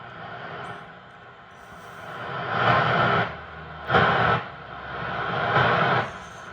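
A Hammarlund HQ-150 radio receiver with a replacement sensitivity potentiometer hisses with loud static that swells as sensitivity is turned up, with several sharp louder bursts standing out, alone without talk.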